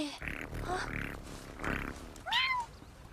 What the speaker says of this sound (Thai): โถเจ้าแมวเหมียวตัวน้อย